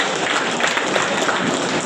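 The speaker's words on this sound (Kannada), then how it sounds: "ಚಪ್ಪಾಳೆ ಬರಬೇಕು" An audience claps in a dense, steady burst of applause, brief and continuous, with no talk over it.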